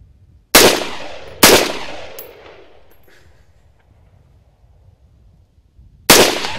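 Sharp, loud gunshots at a shooting range: two quick cracks with ringing decay, a pause, then a third shot, fired alone without talk.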